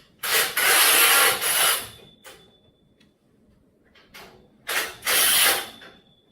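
A ratchet wrench tightens bolts on a steel warehouse storage rack, giving two long bursts of rapid clicking close by, with a few short ratchet strokes between them.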